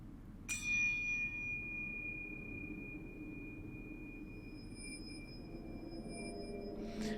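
In the video game Sekiro, a bell is struck once and rings out with a clear, sustained metallic tone that slowly decays over several seconds above a low ambient rumble, followed by a second strike at the end.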